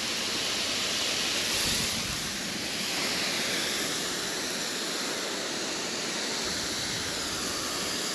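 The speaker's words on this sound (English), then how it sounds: "Look at all that water coming down, and it's not washing out." Heavy water pours steadily down through glued garden mulch outdoors, a loud, continuous rushing splash with no break and no voices for over eight seconds.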